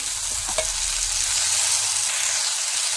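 Chopped sweet potato leaves hiss loudly in hot oil with browned onion and chilli, a dense, close, steady sizzle with a brief clink near the start.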